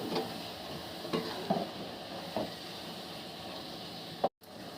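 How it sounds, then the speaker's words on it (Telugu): Vanjaram fish frying in oil in a pan, a quiet steady sizzle with a few soft clicks and stirring taps, cut briefly by a silent gap near the end. "రెండు నిమిషాలు చేపలు ఇలా వేసి ఫ్రై చేసిన తర్వాత"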